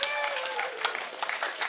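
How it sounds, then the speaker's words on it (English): An audience at a live event applauds after a performance, with scattered claps and crowd noise under a voice talking over it. "A round of applause for Mario"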